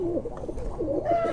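Low, throaty cooing from a Kuwaiti teddy pigeon, a continuous rolling coo heard up close without talk.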